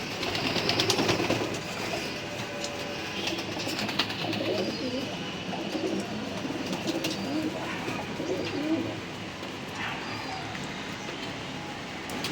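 Low cooing of many racing pigeons fills an enclosed loft, continuous under a busy background of rustling and shuffling.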